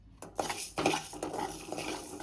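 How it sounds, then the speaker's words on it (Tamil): Dry coriander seeds are roasted in a metal kadai, stirred and scraped around, with clinks of a utensil against the sides and a light rattling. "இப்போ கேஸ் ஆன் பண்ணி கடாயை வச்சு தனியாவை வறுத்துக்கலாம்"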